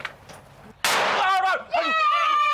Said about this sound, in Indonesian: Raka, jangan nyalain mercon di sini dong